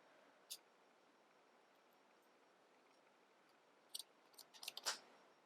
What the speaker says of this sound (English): Scissors are a bit blunt.